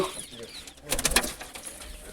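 Domestic pigeons in a loft give soft, faint cooing, with a brief louder flurry of sound near the middle against a quiet background and no speech.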